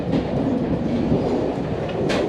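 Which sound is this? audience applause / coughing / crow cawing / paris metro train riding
paris metro train riding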